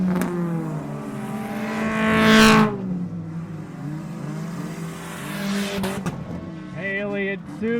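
Race cars battle for the lead on an oval track at the Old Milwaukee 30, engines roaring and swelling in pitch as they pass close by, one loud sweep then another, under a steady commentator's voice.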